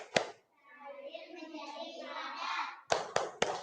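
Children in a classroom doing a rhythmic clapping game: a sharp clap, then a stretch of children chanting together, then a quick run of three claps.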